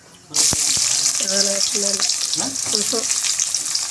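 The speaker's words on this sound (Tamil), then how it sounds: "சன்னா மசாலா வெங்காயம் நல்லா வதங்கணும்." Onions sautéing in hot oil for chana masala, a steady loud sizzle starting abruptly after a quiet moment, with occasional clinks of a utensil stirring the pan.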